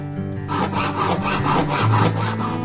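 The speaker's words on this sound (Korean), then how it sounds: "젓가락도 숟가락처럼 오래도록 세밀하게 갈고 다듬어야만 한답니다" Brass chopsticks for traditional bangjja tableware are filed by hand with a file, giving steady rhythmic rasping strokes, close and loud throughout without any talk.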